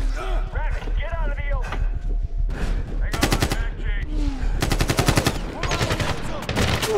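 Rifle gunfire in the video game Medal of Honor rings out in loud, rapid bursts of shots, with game sounds and voices mixed in underneath.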